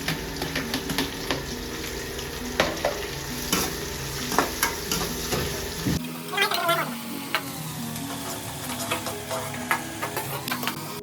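Onions and garlic sautéing in oil in a pan for a fish head curry, with continuous close sizzling and repeated scraping stirs of a spoon against the pan, loud and steady throughout, no talking.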